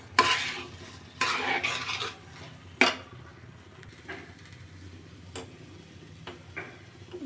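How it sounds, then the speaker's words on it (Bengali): Rice being stirred into spiced oil in a pan while cooking hilsa pilaf, with a few loud scraping sweeps and clinks of utensil against the pan, then quieter scattered taps and a faint sizzle, close and without talk. "এবার চালটাকে আমি এর মধ্যে ভালো করে বুনে নেব।"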